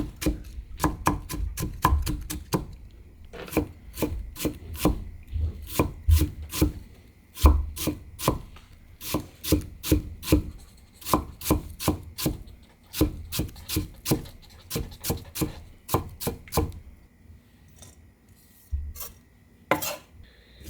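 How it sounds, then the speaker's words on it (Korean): Knife rapidly chopping cabbage very finely on a board, a long run of sharp, closely spaced taps in quick bursts with brief pauses, close and crisp, no talking. "곱게 썰어서 아주 곱게 다지셔야 해요"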